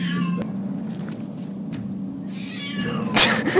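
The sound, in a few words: cat meowing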